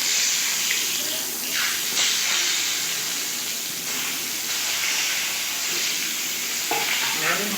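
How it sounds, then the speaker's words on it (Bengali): Pieces of pointed gourd (potol) fry in a pan, giving a continuous hissing sizzle with occasional soft crackles and spatters close by. "একইভাবে আমি আরও 4টে ভেজে নেব।"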